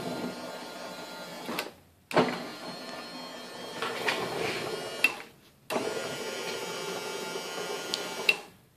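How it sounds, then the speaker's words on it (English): An old battery leaf blower motor, mounted on a snow blower to turn its chute, whirs in three sustained runs separated by abrupt stops and restarts, with faint clicks along the way. "I just happen to have an old blown-up leaf blower, and I just mounted it here"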